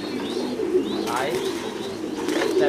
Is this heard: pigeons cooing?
yes